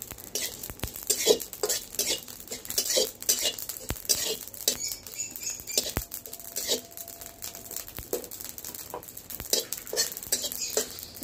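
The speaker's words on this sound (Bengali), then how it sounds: "দেখুন কি সুন্দর পুট পুট পুট পুট ফুটছে।" Whole cumin seeds and two dried chillies dry-roasting in a dry pan, with scattered sharp pops and crackles, scraping stirs and occasional metallic taps against the pan, close and moderately loud, with no talking.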